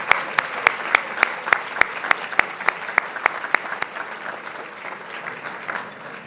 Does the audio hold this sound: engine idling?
no